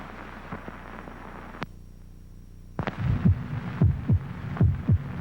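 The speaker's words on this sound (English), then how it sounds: "This is the sound of a human heart." A human heartbeat thumps in a steady rhythm of soft, low double beats. It starts faint behind a hum and grows louder and closer after a brief quiet gap, with no voices.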